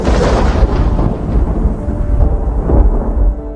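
Thunder rumbles heavily through a storm, a loud, deep, continuous roll that swells and surges, with no voices.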